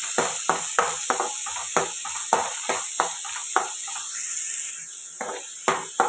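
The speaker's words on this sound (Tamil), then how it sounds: "ரெண்டு வெங்காயம் பொடிசாக கட் பண்ணி வச்சுக்கோங்க அதை போட்டுக்கலாம் அதுவும் இதோடு சேர்த்து வதக்கணும்" Finely chopped onions sautéing with spleen in a pan: a steady close sizzle of frying broken by regular sharp scrapes and taps of a spatula stirring, with no talk.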